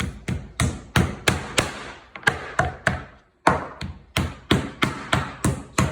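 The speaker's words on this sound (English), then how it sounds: "just make sure you tap around the bone a bit too, because you don't want it thick at the bone" A cutlet bat pounds pork cutlets flat in steady, close, sharp taps, a short run of blows, a brief pause, then another regular series.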